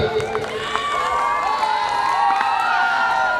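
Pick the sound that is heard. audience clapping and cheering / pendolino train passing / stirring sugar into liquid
audience clapping and cheering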